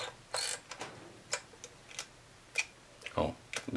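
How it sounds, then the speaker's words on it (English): Komaflex S camera winding on after its shutter is released, a run of soft close mechanical ticks and ratcheting clicks, fairly quiet, with a slightly louder burst near the end. "So I released the shutter, but I hadn't cocked it yet, and so now it winds on."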